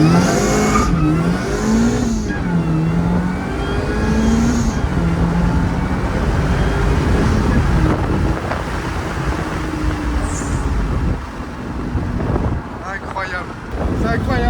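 A Lotus Elise S3 sports car accelerates repeatedly, its engine note climbing through gears in rising sweeps and then dropping off, close and loud under heavy wind buffeting, with a person talking over it at times.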